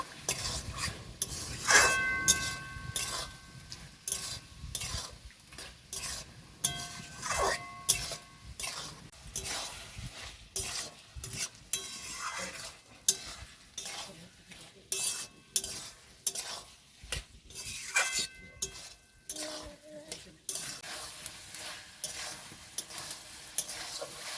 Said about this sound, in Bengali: আলুটাকেও ভালো করে নেড়ে চেড়ে কষিয়ে নেব।